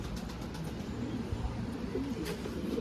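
Soft, low pigeon cooing rises a few times through steady background noise, fairly faint and somewhat masked.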